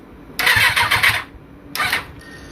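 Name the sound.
Kawasaki Z1000 replica motorcycle engine started with self-starter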